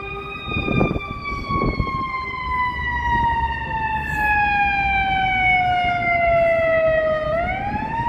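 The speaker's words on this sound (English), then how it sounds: "here comes the ambulance." An ambulance siren on a Chicago street wails loud and close, its tone sweeping steadily down as it passes, then turning back up near the end over traffic rumble.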